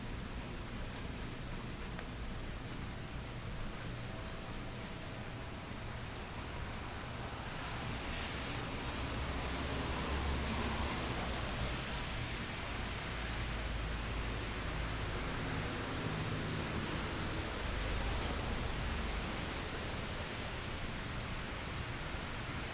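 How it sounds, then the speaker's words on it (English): Steady rain pours down during a Fort Lauderdale, Florida thunderstorm, a dense, even wash of noise that holds at a constant level for the whole stretch with no voices. "now that's just the rain you hear"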